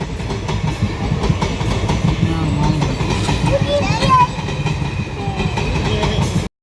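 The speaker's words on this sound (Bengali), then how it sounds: "ট্রেন এসে পড়েছে ট্রেন চলেও যাবে দেখো চলে যাচ্ছে" A train rumbles past nearby with a steady clattering roar, a voice speaking briefly over the noise.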